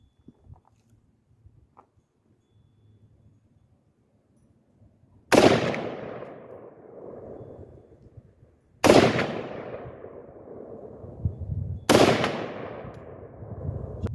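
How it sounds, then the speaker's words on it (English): Three loud, sharp 5.56 rifle shots fired at targets outdoors, spaced a few seconds apart, each cracking sharply and then rolling off in a long echoing decay, with quiet background between. "we're going to lock and load and engage some targets"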